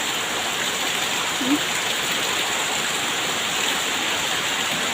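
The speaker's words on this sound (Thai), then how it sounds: "ถ้าฝนตกอย่างเดียวปุ๊บไม่กลัวนะคะ กลัวลมมาก" Steady heavy rain pours down with wind, making a dense, even hiss that holds at one level throughout without any voices.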